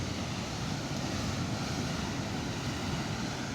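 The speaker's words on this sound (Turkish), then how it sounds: "Ya dalgalar çok iyi ya" Ocean waves wash in a steady, broad rushing roar, fairly faint and unbroken, with a windy quality and no talking over it.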